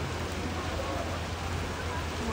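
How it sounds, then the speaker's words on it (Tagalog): Steady, heavy rain falling during a flood in Sampaloc, a dense and unbroken hiss that stays loud from start to finish. "Parang ayaw pa rin huminto ng ulan eh."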